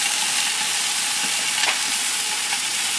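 Soy sauce sizzling and frying on a hot Blackstone flat-top griddle during hibachi-style home cooking, a steady loud hiss throughout with faint stirring scrapes and small pops.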